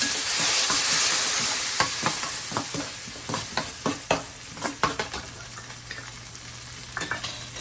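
Moong dal sizzles and crackles in hot oil, with a spoon stirring and scraping through the pan in short, irregular clicks; no talking.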